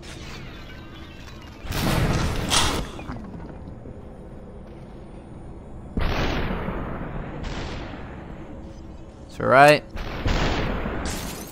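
Gunshots in the video game Superhot, a few sharp, loud bursts spaced several seconds apart with fading tails, and someone talking briefly between them.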